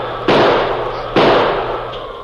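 Two loud, sharp shots from a heavy six-gun revolver, fired in a snowstorm in a radio drama, spaced about a second apart, each one ringing out and fading slowly.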